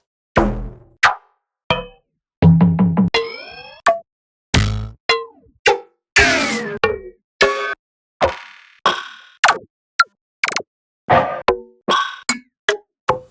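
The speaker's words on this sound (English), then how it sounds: "the wonky folder with all the wonky percussion sounds" Wonky percussion one-shots from a sample pack play one after another: springy boings, plops, pitch-bending knocks and quick rattles, each short and punchy and separated by brief silences, with nobody talking.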